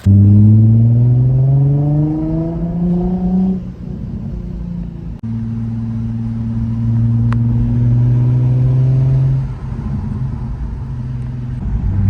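A Nissan 350Z drives along, its engine note rising through the gears with two clear shifts and a droning interior rumble, loud and close with no talk.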